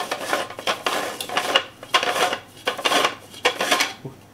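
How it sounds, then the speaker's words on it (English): A heavy multicolor 3D-printed plastic jug has its separately printed ring unscrewed, giving close, scraping plastic-on-plastic grinding in repeated short twists with brief pauses. "You screw this piece off."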